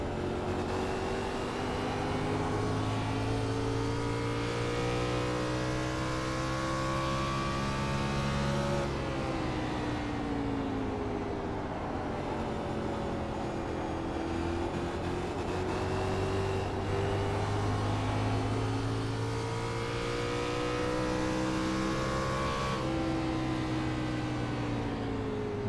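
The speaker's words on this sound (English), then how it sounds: "Love the sound of those cars." A stock race car engine drones steadily through a lap of New Hampshire in online sim racing, with loud continuous engine tone rising and falling through gear and throttle changes, with no talking.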